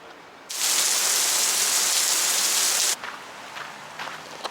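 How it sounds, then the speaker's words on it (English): Heavy rain pours down in a loud, dense wash after a quieter start, then cuts off abruptly, leaving scattered drips and patter; heard during a downpour in Santa Fe, New Mexico near the state capitol. "it's torrentially downpouring again"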